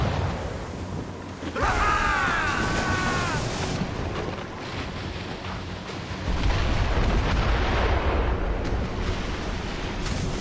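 Broadside of ship cannons from a sailing warship in Assassin's Creed Rogue, heavy booms rolling over churning ocean surf, loud and close, with a whistling volley early and another surge of blasts near the end.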